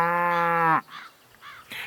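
A light brown cow gives one long, loud, close moo that breaks off sharply, followed by a few fainter, shorter honking calls with nobody speaking.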